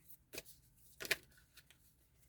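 A deck of cards is shuffled in two quick riffling bursts, close but fairly quiet, followed by a few faint card flicks and no voices.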